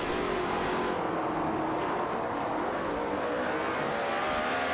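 Race cars in a video game, a Bugatti Veyron and a Hennessy Venom F5, roar past with loud continuous engine drone, pitch sweeping as they pass close by, with no voices.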